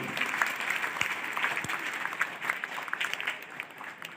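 An audience at a school farewell ceremony for a retiring teacher claps in sustained, even applause, a dense patter of many hands heard from a moderate distance with faint murmuring beneath.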